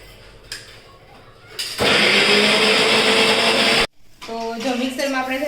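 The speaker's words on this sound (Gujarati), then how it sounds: "ચાલો હવે આ મિક્સરમાં મિક્સ કરી દઈએ" A kitchen mixer grinder whirs loudly as it blends sweet corn soup vegetables with a little water, running for about two seconds, stopping abruptly, then sounding again more roughly as a voice talks nearby.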